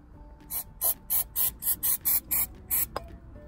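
Spray cleaner pumped onto the exhaust area of a Corvette C5 to degrease it, nine sharp, evenly spaced trigger sprays in quick succession, close and crisp, with faint mechanical clicks between.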